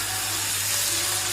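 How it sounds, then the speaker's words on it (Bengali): Chicken frying in oil for chow mein, a steady, close hiss of sizzling with no clear breaks and no talking. "তেল দিয়ে আমি চিকেনটা ভেজে নিচ্ছি"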